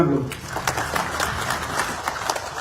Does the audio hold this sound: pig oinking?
no